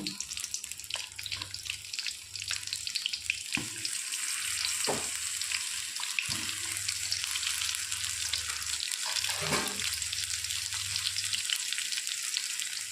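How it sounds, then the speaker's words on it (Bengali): Stuffed pointed gourds fry in oil in a pan, a steady close crackling hiss running throughout with occasional soft knocks and turns of the pieces, no voices. "সাবধানে ভাজতে হবে যাতে পটলের ভিতর থেকে ফুলগুলো না বেরিয়ে যায় এবং পটলটাও যেন সিদ্ধ হয়ে যায় এইভাবে সুন্দর করে ভেজে নেব"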